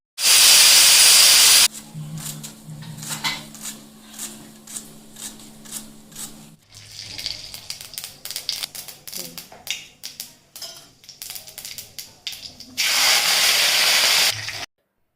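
A pressure cooker on a home kitchen stove lets out loud, steady bursts of hissing steam at the start and again near the end, with quieter kitchen clatter and a voice in between.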